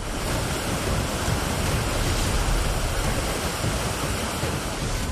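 Flash floodwater rushing like a big river at Gajgarh near Dharamshala, a dense, steady roar of churning water with no breaks, loud and continuous from start to finish.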